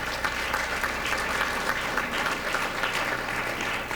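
Steady applause from a seated audience at a retirement celebration for Marcia Reback, president of the AFT, dense clapping holding at an even level for several seconds with no voices over it.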